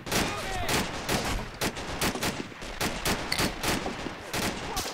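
Gunfire in the war strategy game Men of War: Assault Squad 2 rattles in dense, rapid bursts of overlapping shots, steady and busy throughout, with faint talk underneath at times.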